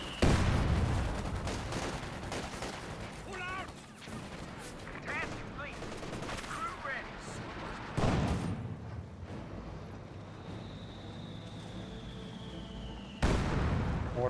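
Mortar rounds landing in Company of Heroes 2 during a multiplayer battle: several sharp booming impacts, plus bursts of gunfire and a whistling shell, in a dense, noisy mix.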